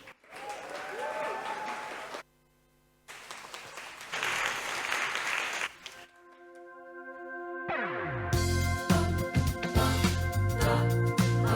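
An audience applauds to welcome the Paya Lebar Junior College Alumni Choir at a memorial event. The dense clapping swells, breaks off briefly, resumes, then gives way to sustained instrumental music.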